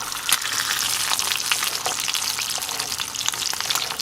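An egg frying in a pan for a Mexican breakfast, giving a dense, loud crackling sizzle with sharp spatter pops throughout, steady and close with no voices.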